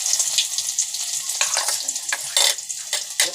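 Mustard seeds and cumin frying in hot oil in a home kitchen pan, a close, loud crackling sizzle with sharp pops and spits bursting through a steady hiss.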